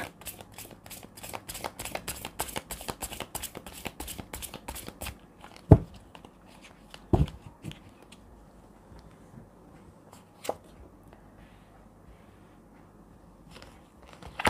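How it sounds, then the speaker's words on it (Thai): Tarot cards shuffled close up in a quick, steady riffle for several seconds, followed by a few isolated taps and soft card placements in a quiet room. "เราจะมาดูไพ่ ทาโร่ กันนะคะ"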